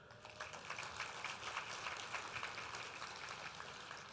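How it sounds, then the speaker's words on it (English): An audience at a school district teacher-of-the-year event claps for its judges, producing quiet, distant and fairly steady applause with irregular individual claps throughout. "And a round of applause for our TOY judges"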